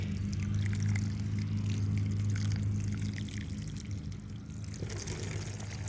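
Water is poured into 1020 planter trays holding freshly transplanted tomato and pepper seedling pots, a soft continuous trickling and splashing that runs steadily, fairly quiet and close, with no talk.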